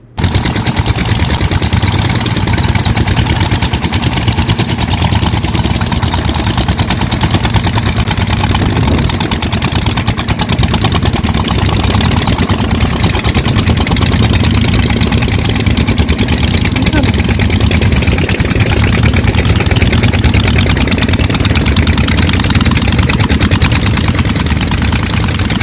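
Loud, continuous machinery roar from a water plant beside a canal near a lake in Jeddah, Saudi Arabia, a steady heavy rumble with rattling, throbbing texture that persists unbroken throughout.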